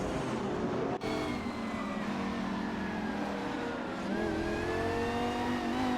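Several race car engines from an AI racing video game, including a Lamborghini SC18, a Lamborghini Diablo SV and a Porsche 911-991 Turbo S, drone and rev together steadily and loudly throughout, with a brief dropout near the start.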